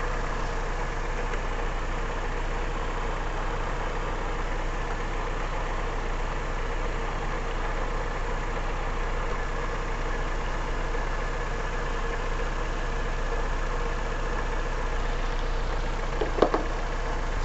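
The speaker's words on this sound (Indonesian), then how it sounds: "Mesin masih hidup" A car engine idles steadily and evenly for the whole stretch, a constant low hum, with a couple of faint clicks near the end.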